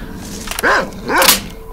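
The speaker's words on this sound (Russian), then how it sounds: "Так, ну собаки мы отстреляем." Dogs in the video game NLC7, a S.T.A.L.K.E.R. mod: two loud, close barks about half a second apart, each with a rising and falling yelp, and no speech.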